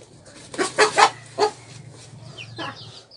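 A rooster clucks and squawks in several loud, close bursts, then gives a few thinner, higher calls as it trails off amid low background noise.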